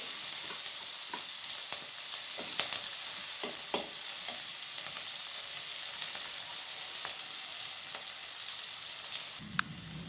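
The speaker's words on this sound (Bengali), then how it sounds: "পেঁয়াজগুলো একটু ভেজে নেবো ভালো করে" Onions frying in a pan for a spicy crab curry, with a steady close sizzle and occasional soft stirring clicks throughout.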